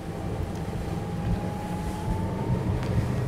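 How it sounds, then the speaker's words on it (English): Ranieri International cabin motorboat engine revving up to 3000 rpm as the hull rises onto the plane, a steady loud drone with rushing water and wind noise and a rising whine held throughout. "Now I'm going to speed up and get a boat on the plane."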